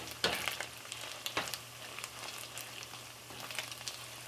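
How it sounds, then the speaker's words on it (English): Beef tripe frying in a pot for tripe tacos, with steady soft sizzling and a few louder crackles and stirring scrapes, close by and without talk. "As you can see, it's starting to fry up a little bit."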